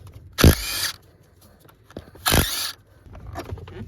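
A power tool spins out the two 13mm bolts holding the shifter on a 3rd-gen Cummins truck during a clutch job. Two loud, close whirring bursts, each about half a second long, come with short gaps and quiet shop noise between them.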